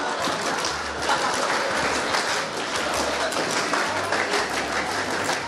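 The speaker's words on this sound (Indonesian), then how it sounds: "Ayo pada tepuk pramuka." A live audience claps together in the Indonesian scout-clap style, a loud, dense burst of hand clapping that carries on continuously for several seconds.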